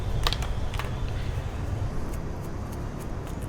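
Faint metallic clicks and a short ratcheting tick as an 8mm bolt is backed out of the rear brake cover on a Honda H'ness CB 350 motorcycle, over a low steady background hum.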